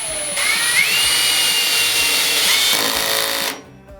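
A Tekhmann cordless drill drives a small furniture screw, giving a loud, close motor whine that rises in pitch, runs steadily for about three seconds and then cuts off abruptly, without talk.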